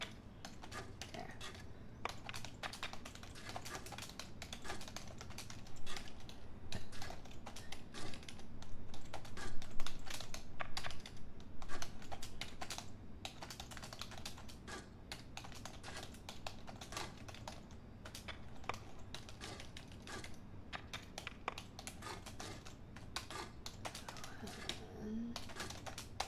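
Someone types on a computer keyboard in a dense, continuous run of quick, close keystrokes, with steady low background noise and no clear speech.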